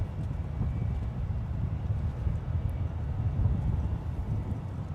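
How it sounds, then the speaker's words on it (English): An Emirates A380 airliner arriving at San Francisco International Airport, a steady low jet rumble blended with wind buffeting the microphone, moderately faint and continuous with no voices. "we have the Emirates A380 coming in from Dubai"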